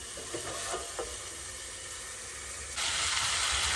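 Bottle gourd and snakehead fish curry frying in a covered pan, a continuous close hiss of sizzling with a few soft taps early on, the steam noise swelling louder toward the end.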